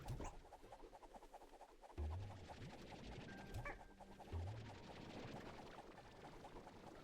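Chicken clucks pop out in short bursts over a busy, steady Slime Rancher 2 game soundscape, with low thumps and a brief tonal whine in the middle.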